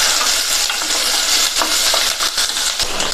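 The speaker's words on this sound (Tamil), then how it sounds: "இதை எல்லாத்தையும் ஒரு 2 நிமிஷத்துக்கு வதக்கி விட்டுக்கலாம்." Onion, green chili and halved garlic sautéing in hot oil for a chayote dish, giving a steady, close, dense sizzle with occasional spoon scrapes and light clinks, no voices.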